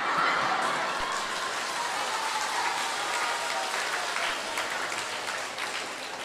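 A large audience in a crowded Buddhist temple claps together in sustained, dense applause that holds at an even level for several seconds before easing slightly.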